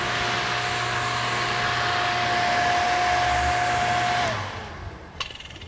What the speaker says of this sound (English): we're gonna turn the pump on manually